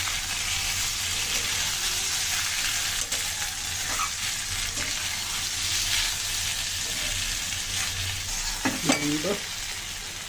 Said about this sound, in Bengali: একটু সুন্দর করে নেড়ে ছেড়ে একটু কষিয়ে নেব, যাতে করে মশলা পেঁয়াজের কাঁচা গন্ধটা চলে যায়